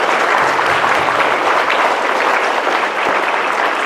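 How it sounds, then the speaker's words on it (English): Loud audience applause for student speakers at a TEDEd event, a thick, continuous wash of clapping from a full room that stays strong throughout. "they deserve a round of huge, loud applause"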